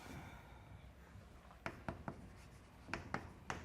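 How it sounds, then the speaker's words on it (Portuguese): Chalk or a pen scratches out short writing strokes on a board during a classroom lecture on maxima and minima of two-variable functions, with three quick marks and then three more, fairly faint, over a low room hiss. "Eu vou escrever assim"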